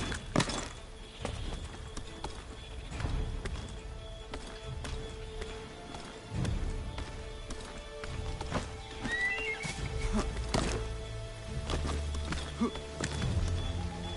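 Horse in the Assassin's Creed III game whinnying and clip-clopping across ground, with hoof thuds and snorts, fairly loud and close, over a steady game ambience.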